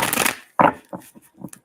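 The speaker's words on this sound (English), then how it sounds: "In the meantime, I'm shuffling for Brianna." Tarot cards being shuffled by hand: one long riffling burst up front, then several shorter, softer shuffles with small pauses between them, close and fairly clear.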